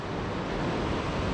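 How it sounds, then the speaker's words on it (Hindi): A fast-flowing river in the mountain valley near Kasol rushes in a loud, continuous broadband roar, steady and close with no breaks. "सुनो भाई आवाज़ इस नदी की, देखो कितनी तेज़ी से बह रही है भाई, बहुत तेज़ आवाज़ आ रही है"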